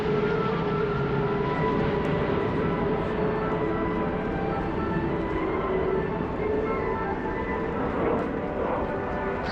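Fursan Al Emarat display team jets landing at the Farnborough Airshow make a loud, sustained engine roar with a whining tone, steady and continuous as the aircraft pass, with crowd murmur faintly underneath.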